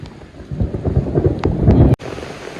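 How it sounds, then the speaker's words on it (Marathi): A low rumble of thunder over steady heavy rain, loud and close, cutting off sharply near the end. "पाऊस एवढा जाम होत आहे बघू शकता तुम्ही आणि विजा पण भरपूर कडकत आहे"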